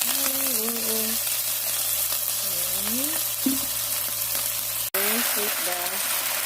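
Water spinach (kangkong) and garlic frying in cooking oil, a steady close sizzle running through the whole stretch beneath voiced tones or background music, with a brief dropout near the end.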